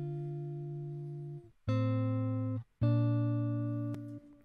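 A clean electric guitar with no effects plays three sustained notes or chords, each ringing clearly and then stopping abruptly, moderately loud and heard alone.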